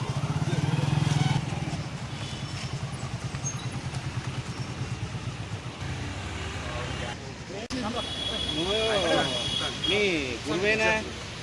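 Motorcycles at a bike rally in Telangana rumble and rev in a crowded outdoor setting, engines droning steadily with passing revs, while people talk and call out over the noise.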